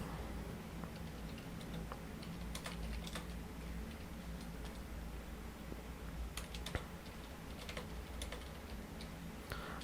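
Typing on a computer keyboard: a fast, steady patter of small close key clicks with brief pauses, fairly quiet and continuous, with no voice.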